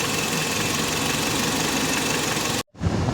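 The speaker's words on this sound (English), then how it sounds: "Now I can hear my clutch is turning now, so that means it's receiving a Freon." A 2011 Kia Sorento's air-conditioning compressor runs with its clutch engaged under the hood, a steady, loud, close mechanical drone with the engine idling, briefly cutting out near the end before resuming.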